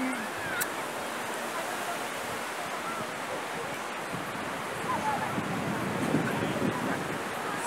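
Sea waves wash onto a beach in Alicante in April, a continuous broadband surf hiss with wind noise. A brief voice is faint in the background.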